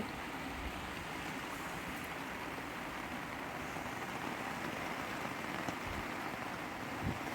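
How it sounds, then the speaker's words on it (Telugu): Steady heavy rain pours down on a brick kiln while bricks are firing, a dense, continuous wash of noise, with no voices and only a faint low thump near the end. "భారీ వర్షం అయితే కురిసిందండి ఒకసారిగా వాతావరణం మారిపోయింది"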